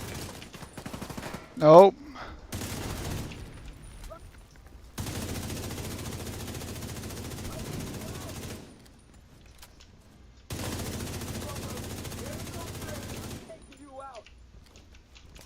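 Bursts of automatic gunfire from The Division 2 come in long sustained stretches separated by pauses, loud and near, with a brief spoken word and a sharp impact early on.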